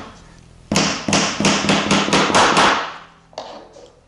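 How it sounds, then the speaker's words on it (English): A small tack hammer drives number 18 by 5/8 inch nails into wood, a run of about eight sharp, close, evenly spaced taps followed by two softer knocks. "And I'll tack it down using number 18 by 5/8 inch nails and this handy little tack hammer."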